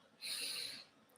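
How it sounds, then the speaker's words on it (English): A single deep breath drawn in sharply through the nose, close and soft, lasting about half a second, during a guided meditation. "take a deep breath"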